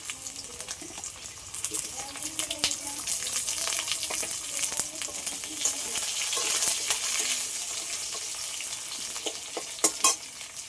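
Large-cut onion pieces frying in hot oil for a fish curry with kulpi greens, giving a steady loud sizzle and crackle throughout with occasional stirring clatter and brief bursts near the end.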